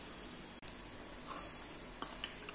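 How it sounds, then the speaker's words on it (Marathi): Brinjal thalipeeth made from leftover bharta sizzles on a hot tava, a soft steady frying hiss with a few light clinks and scrapes of a utensil near the end, and no talking. "आता तवा छान तापलेला आहे तेव्हा त्याच्यावर हे दुसरं थालीपीठ जे आपण रुमालावर थापलं होतं ते घालू"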